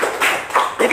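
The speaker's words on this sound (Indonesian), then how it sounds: "Tepuk tangan lagi sekali untuk yang ketiga" Classroom students giving a short round of hand-clapping during a lesson, three quick bursts of claps close by, with no talk over them.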